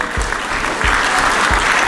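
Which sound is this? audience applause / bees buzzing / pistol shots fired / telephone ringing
audience applause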